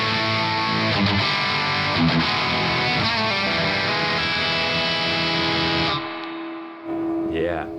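Electric guitar played through a Walrus Audio distortion pedal with blend control, sustained distorted chords ringing for several seconds before cutting off, then a brief sliding note, with a voice talking over it.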